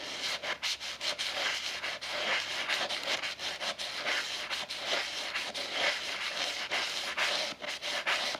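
A chisel is sharpened by rubbing it with firm pressure on sandpaper in a figure-8 pattern, producing a close, steady rhythmic scraping and rasping with regular strokes.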